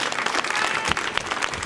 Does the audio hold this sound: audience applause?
yes